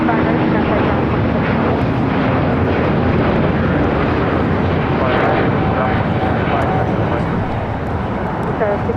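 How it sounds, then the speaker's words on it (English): An Airbus A350-900 jet airliner bound for Rome takes off at LAX, its engines a loud, steady, broadband roar that holds throughout, with radio chatter faintly audible beneath. "621 taking off to Rome, Italy on the A350 900"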